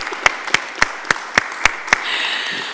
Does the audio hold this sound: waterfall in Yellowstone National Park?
no